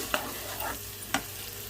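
Onions and green chillies fry softly in a pan over a low sizzle, with a few light spoon knocks and scrapes, brief and fairly faint.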